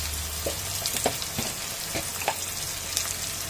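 Masala of salt and turmeric sizzling and being stirred in a pan while cooking a Bengali dish of katla fish head with taro greens; a steady soft frying crackle with scattered scraping stir strokes, fairly quiet and free of talk.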